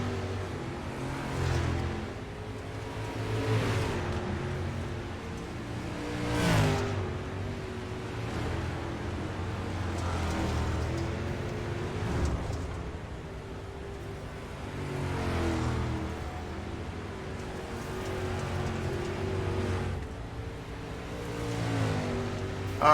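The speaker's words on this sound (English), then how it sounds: "As they crash the cars" Cars rev and crash at a school event, with engine roars rising and falling repeatedly over a rough, noisy rumble, heard at some distance without talk.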